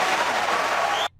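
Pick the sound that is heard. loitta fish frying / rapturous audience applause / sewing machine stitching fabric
rapturous audience applause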